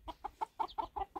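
A chicken clucks in a quick run of about seven short, evenly spaced clucks, close and clear, with no talk over it.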